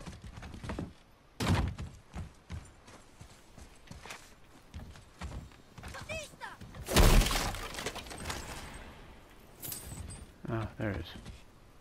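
An object is smashed in the God of War action game. Loud shattering crashes stand out among thuds, footsteps and clattering, with a big burst near the middle and another near the end, while a person talks in between.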